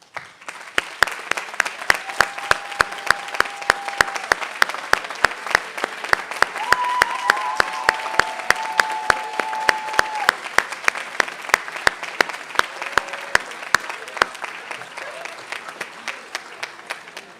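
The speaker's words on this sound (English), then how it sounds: "Please stand for applause, and everyone please join me in congratulating them." A standing audience at The Dartmouth Institute Class Day 2023 applauds the Social Justice Award recipients with sustained, even clapping that carries on for over fifteen seconds, with distinct loud claps close by over a dense crowd wash.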